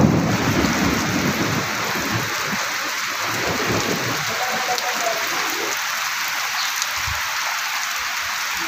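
A heavy morning thunderstorm with strong wind in Odisha, with driving rain hissing loudly and steadily and deep rumbles of thunder rolling underneath, continuous and close.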